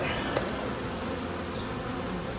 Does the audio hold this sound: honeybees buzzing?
yes